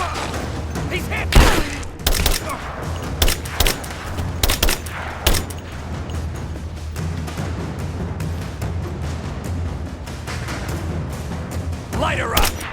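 Gunfire and explosions from the video game Rise of the Tomb Raider during a fight with a military helicopter: several loud bursts and booms over the first half, then a steady hum of rotor noise with distant shots and voices calling out.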